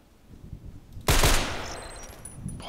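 Rapid automatic fire from a DT SRS rifle in a video game, a dense burst erupting suddenly after a quiet stretch and ringing out loud and close before tailing off.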